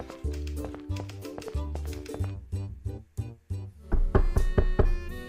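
Several hollow knocks on a door in A Golden Wake sound among a bouncy piano and bass tune, the taps landing in small groups close by, with a louder cluster near the end.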